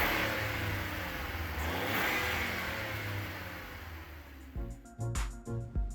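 A VW Polo 1.0 TSI with a custom full exhaust and stage 2 tune, the engine revving with a broad rising and falling roar that fades over several seconds, then a few short clipped bursts near the end.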